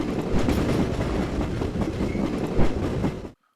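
A train of railroad units rolls along steadily in a video game, a loud rumbling clatter with rhythmic clickety-clack from the wheels, ending abruptly in silence.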